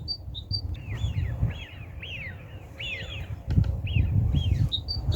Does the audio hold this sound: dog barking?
no